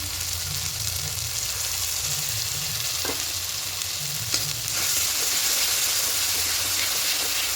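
Spices and ginger-garlic-onion paste sautéing in oil for a Bhola fish curry, with a steady loud sizzle and frying hiss close up, broken by a few soft scrapes of stirring and no talking.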